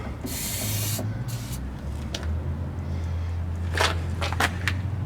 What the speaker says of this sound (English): So the recommendation was just spray this in the bottom of the door.